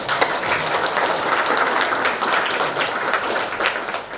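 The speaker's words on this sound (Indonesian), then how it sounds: "Saya mohon kita semua memberi aplaus bagi paduan suara." A congregation applauds the choir at a Christmas church service, a dense, steady wash of many hands clapping at once, sustained and fairly loud with no voices over it.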